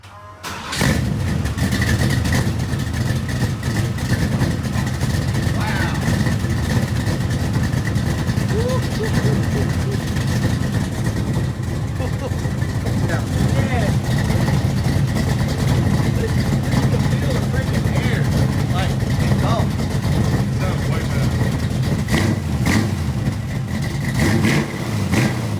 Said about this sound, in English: we got to start the car up just to see what it sounds like